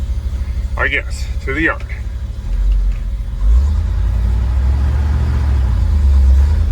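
International Harvester Loadstar 4x4 truck engine turning over and catching, settling into a loud, deep rumbling idle after someone speaks briefly nearby.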